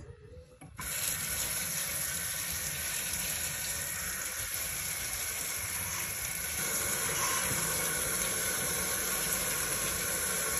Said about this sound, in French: Voilà, on va rincer un peu.